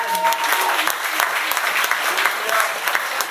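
A church congregation breaks into steady, dense applause during a French-language sermon, many hands clapping together at close range for the whole stretch.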